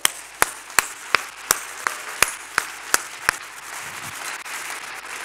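Sharp, evenly spaced claps ring out in a church as the congregation acclaims the Lord, about ten loud distinct hits over a low background murmur, then a steady hiss of broader applause.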